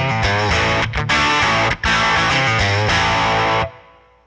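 A distorted electric guitar riff plays through a Line 6 Helix, loud and thick with sustained chords and brief stops, then rings out.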